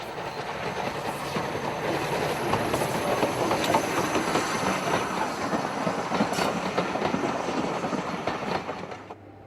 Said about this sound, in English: The loco departs Norden, the present terminus of the line, on the 16th of April 2005.